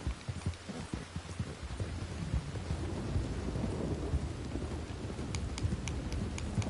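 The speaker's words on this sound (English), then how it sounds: "This is a heavy ass storm." A heavy thunderstorm in Red Dead Redemption II: steady rain patters on surfaces while a loud rumble of thunder rolls through, with a few sharp clicks and knocks near the end.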